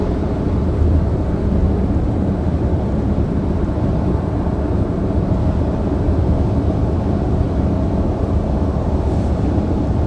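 Audi Q3 crossover cruising at 100 km/h just under 2,000 rpm on a road near Cape Town, a steady, even low rumble of engine and road noise filling the cabin throughout, with no speech.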